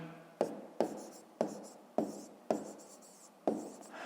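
Handwriting on paper during a fifth-grade maths exercise: six sharp pen strokes in a steady rhythm, close and quiet, each a short scratchy scrape, with no talking.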